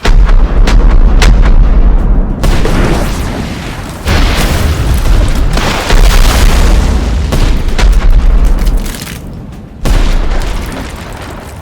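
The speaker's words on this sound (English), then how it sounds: "Fill their hull with our cannon fire and leave nothing left." Repeated loud cannon blasts from a pirate ship firing in battle, heavy booming shots following one another in a dense volley, each with a rolling low rumble and no voices over them.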